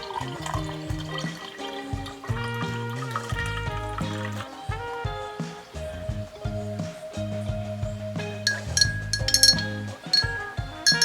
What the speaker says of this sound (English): we gotta pour up a cold brew and get comfy